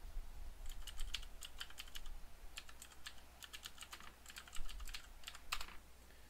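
Quick bursts of keyboard typing in irregular clusters of clicks, close and fairly quiet, with short pauses between runs of keystrokes.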